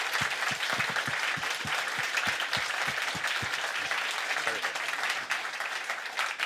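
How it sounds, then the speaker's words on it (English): A conference audience applauds after a talk, with dense, steady clapping that fills the room and a few distinct sharper claps standing out near the start. "we certainly owe you a good round of applause"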